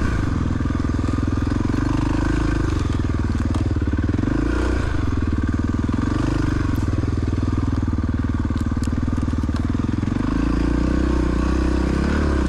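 A 1993 Honda XR600R single-cylinder thumper roars loudly and continuously during an ice race on a glacier course, its engine note rising and falling with throttle changes, close and dominant throughout.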